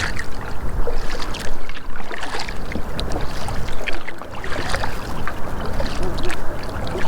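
Kayak paddling on the Tennessee River, a steady wash of water and wind with repeated paddle strokes splashing close by, no voices.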